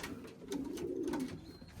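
A racing pigeon coos softly, one rolling low call swelling and fading near the middle, fairly close, over quiet background with no talk.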